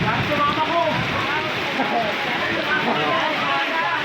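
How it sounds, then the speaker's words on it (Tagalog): Steady rain hisses throughout, a dense broadband wash of falling water with no breaks, fairly close and even in loudness. "Ang sarap ng ulan."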